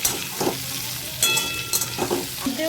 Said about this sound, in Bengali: এই যে কুমড়ো এবার ভেজে নেব।